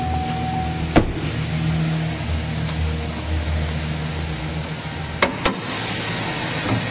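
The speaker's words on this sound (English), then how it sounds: "It is a very clean engine bay, and it's running nice and smoothly." Engine of a 2009 Chevrolet Silverado 1500 LT Z71 4WD E85 extended-cab pickup idles smoothly with a steady low hum, interrupted by a few sharp clicks or knocks.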